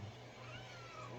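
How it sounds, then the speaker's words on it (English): A domestic cat meows softly, a short faint call against quiet room noise with no speech. "But he is a very loving kitty to Chris"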